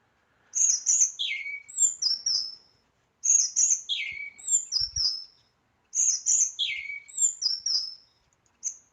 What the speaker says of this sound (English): I think this one here is a bird.